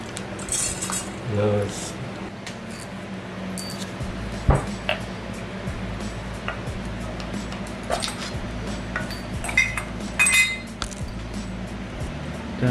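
Metal parts clink and rattle as the housing comes off a Rotrex C30-94 supercharger, with scattered light taps and jingles over a low hum and a brief spoken word.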